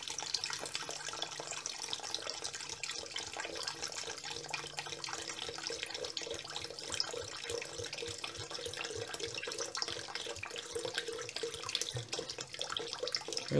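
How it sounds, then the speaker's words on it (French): Water, 360 grams of it for bread dough, pours in a continuous soft splashing stream that runs steadily throughout at low, even volume. "On y ajoute l'eau. 360 grammes d'eau."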